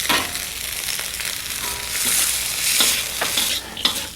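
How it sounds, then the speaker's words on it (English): Vegetables with corn, chickpeas, peanuts, sesame and fresh coriander stirred in a hot frying pan, a continuous close sizzle broken by repeated scraping strokes of the spoon. "Now let's just stir our veggies up here for a few moments."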